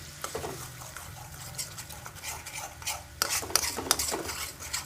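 Butter melting and simmering in a pan as its water cooks off while making cow milk ghee, giving a soft steady bubbling with occasional spoon scrapes and stirring clinks close by, no talk.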